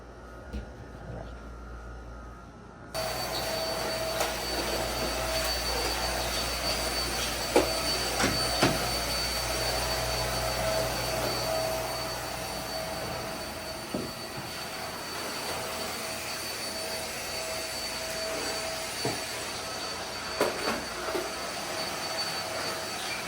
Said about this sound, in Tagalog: maganda may vacuum kayo ganito. Very very handy.